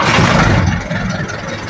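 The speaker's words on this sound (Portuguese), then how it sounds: "Nesse momento funciona o motor." Restored old Chevrolet D10 engine running, a steady rough rumble heard close by and fairly loud, tapering slightly toward the end with no talk over it.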